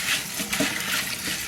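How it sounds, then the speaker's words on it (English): Dry black beans being rinsed by hand in water, a brief close splashing and swishing with no talk. "I'm gonna start with the black beans and use, just wash them"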